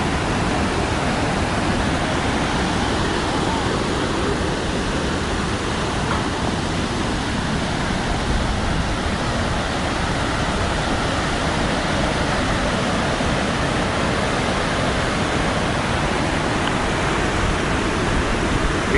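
Iguazu Falls thunders from the Argentinian side, a dense, steady, broadband roar of massive falling water that fills the scene continuously and loudly without any break or voices.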